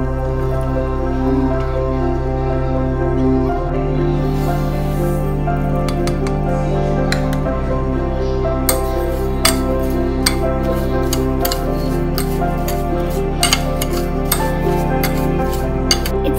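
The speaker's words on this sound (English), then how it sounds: "Now let's mix blueberry and sugar into the" Blueberries and sugar are stirred in a bowl, with light clinks and taps of a utensil against the dish scattered over steady background music, growing busier in the second half.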